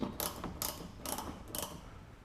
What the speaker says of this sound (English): Obviously you wanna screw it in first.